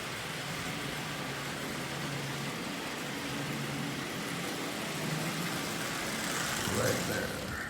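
A restored Lionel 8601 model train locomotive, fitted with a new front bezel, runs with a quiet, continuous motor hum that swells slightly near the end, with no voices over it.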